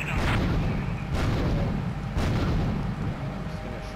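A rocket launches in Grand Theft Auto 3 with a rumbling, explosive roar, punctuated by a few sharp blasts among steady low battle noise, heard at moderate distance.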